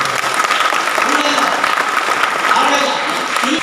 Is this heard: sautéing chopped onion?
no